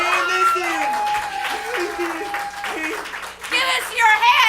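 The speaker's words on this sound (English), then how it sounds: "if we can just get the audience clapping" An audience claps at a live outdoor Shakespeare performance by a touring festival troupe, the applause running beneath a performer's loud spoken and sung lines.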